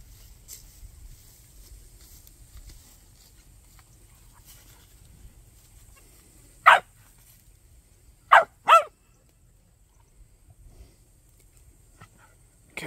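A farm cow dog gives three sharp barks, one alone and then a quick pair, out in the open over faint low background noise.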